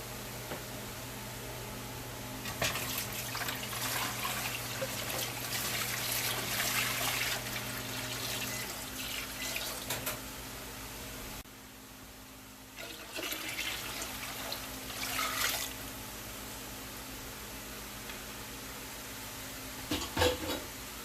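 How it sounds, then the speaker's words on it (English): Tap water runs steadily into a pot to fill a water bath for canning pickles, a continuous hissing gush with a short pause midway before the pour resumes, close and fairly loud with no talking. "So now we're getting our water bath ready. And I'm going to put some water in there."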